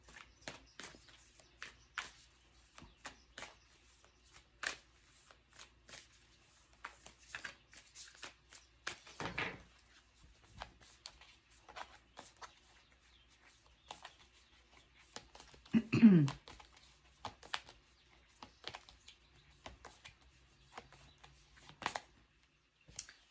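Moonology oracle cards being shuffled, with soft intermittent riffles and taps scattered over a quiet room and a louder burst of card handling partway through, and no one speaking.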